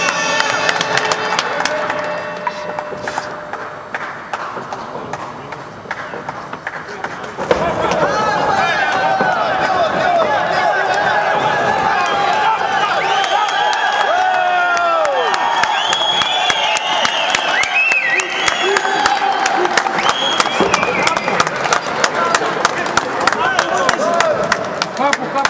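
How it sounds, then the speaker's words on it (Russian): An audience applauds and cheers at a fight event, a dense, steady crowd roar with clapping that swells louder after a quieter opening and carries on to the end, with voices mixed in. "Аплодируем, аплодируем, гости!"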